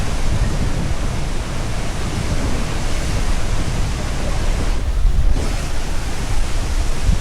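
Strong wind and blowing spray at Curug Cibeureum waterfall, a loud, constant roar of rushing water with gusting wind buffeting the microphone, dipping briefly partway through.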